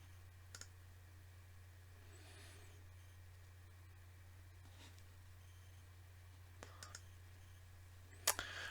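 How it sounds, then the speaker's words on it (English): Computer mouse clicks come while navigating screens in a robotic process automation program, a few soft, sparse, isolated clicks over a steady low electrical hum, with one sharper click near the end. "So long as I don't hold down the left control key, I can navigate normally using the mouse clicks"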